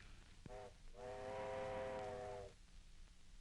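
A steam train in a 1939 Western gives a single drawn-out whistle blast of about one and a half seconds, preceded by a short toot, heard fairly close with rumbling background and no talking.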